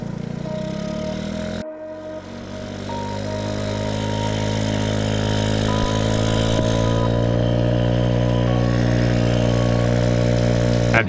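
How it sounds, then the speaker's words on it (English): A small engine on a homemade go-kart idles and warms up from cold, running loud and steady with a rising, sustained drone over about ten seconds after a brief blip. "Now the engine was a little cold, so I thought I'd get it a little warm before I give it the full beans."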